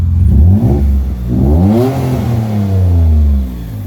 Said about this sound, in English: Give it a little rev so you can hear it.